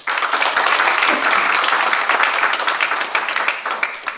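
Church congregation applauding an elder at a New Year thanksgiving service, a dense, steady wash of many hands clapping close and loud throughout.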